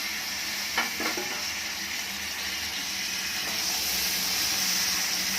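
Cut potato, eggplant and tomato fry in a pan for a dry Maharashtrian vegetable dish, giving a steady, moderately quiet sizzle with a few faint clinks near the start.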